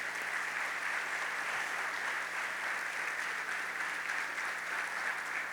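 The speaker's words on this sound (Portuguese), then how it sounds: "Você pode dar um aplauso pela vida desse casal?" A church congregation applauds a couple, dense and steady clapping from a large crowd that keeps going throughout at moderate distance.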